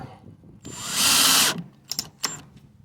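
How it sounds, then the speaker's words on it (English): A cordless drill with a low battery drives screws into a soil screen, whirring in one steady burst lasting about a second, followed by a few short clicks and brief mechanical clatter. "Looks like my drill's running out of battery power here pretty quick."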